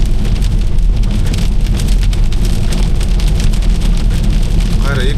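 Heavy rain pours in a dense, steady roar onto a car, heard from inside, with voices talking faintly beneath the constant drumming.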